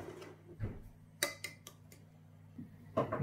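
Chicken in Nando's marinade gets mixed in a bowl, with a few faint, scattered clinks and taps of a utensil against the bowl and soft quiet gaps between them.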